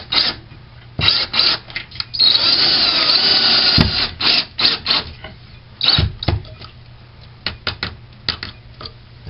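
A power drill drives No. 8 Phillips screws into the center of a wall stud while a closet kit is installed, sounding as repeated short whirring bursts between pauses with one longer sustained run, close and loud.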